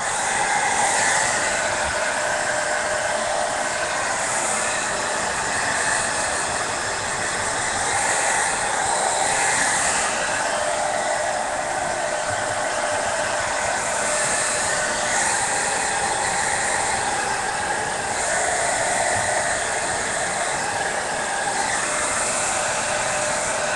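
A hair dryer blows steadily while drying hair, a loud, unbroken whooshing hiss close to the microphone that swells and dips slightly as it moves, with no talking.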